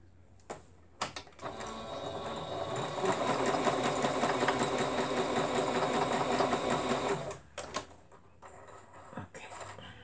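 Sewing machine stitching fabric runs in a steady, fast mechanical whir for several seconds, close and clear, framed by clicks and handling noises before and after.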